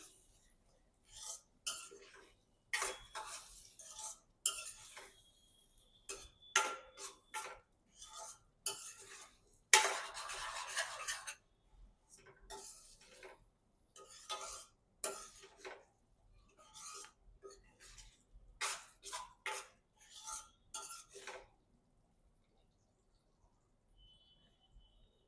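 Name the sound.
mixing paneer into masala in a pan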